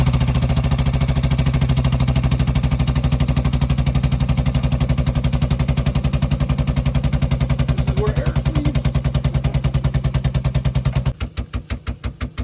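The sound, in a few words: Steiger tractor engine running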